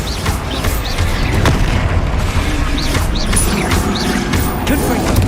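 Bombarda spell explosion in Hogwarts Legacy hard mode combat, a loud dense blast and rumble filling the whole stretch, with repeated sharp whooshing hits layered over a continuous heavy crash.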